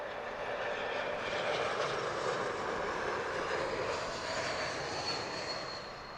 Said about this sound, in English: Super modern looking jet, the A220.